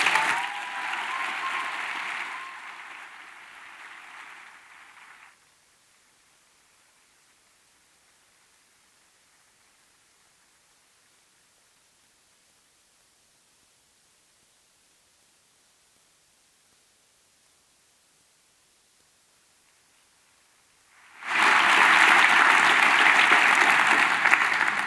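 An audience applauds a scholarship recipient at an awards ceremony, a loud clatter of clapping that fades away, then after a long silence a second full round of applause starts abruptly.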